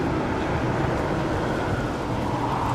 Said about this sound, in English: The wind has just been atrocious.